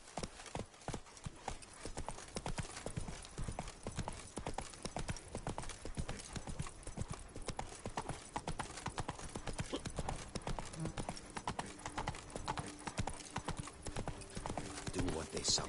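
Hooves of the horse Roach pound at a gallop in The Witcher video game, a rapid and continuous clip-clop close up. Voices talk over it at times.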